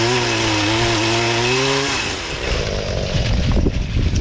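A pole saw chainsaw whines at high revs with a strong harmonic engine tone, then bites into a tree branch, turning to a rough, gritty cutting buzz.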